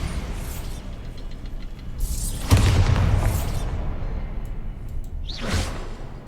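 A Bombarda spell goes off in a magic-duel video game, a deep booming blast with a swooshing rush, followed by another whooshing burst a few seconds later over a steady low game rumble.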